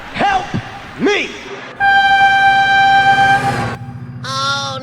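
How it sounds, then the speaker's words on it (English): Cartoon-style train horn sounding in a long steady blast after excited voices, with a synthetic rumble beneath and a second shorter horn toot at the end. "Oh my god, train!"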